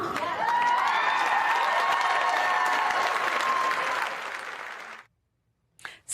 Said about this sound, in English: People cheering for that.